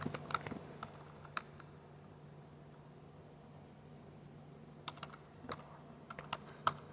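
Keys clicking on a computer keyboard as a Linux print command is entered in a terminal, with a short burst of taps, a quiet pause, then another cluster of keystrokes over a low steady hum.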